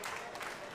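Large crowd at a women's college softball game at Lamson Park, a brief steady wash of cheering and clapping at moderate distance.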